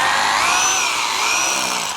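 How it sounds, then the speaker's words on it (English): A power drill bores into concrete for anchor bolts, using a Bosch 1/2 inch by 12 inch anchor bit, during a shop build: a loud, steady high-pitched whine that holds for the full two seconds with no talk. "Okay, so I got my drill."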